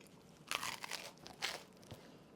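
Crunchy bites and chewing of a grilled cheese sandwich made with grated frozen chorizo, a few close crisp crunches in bursts, fairly quiet, with no speech.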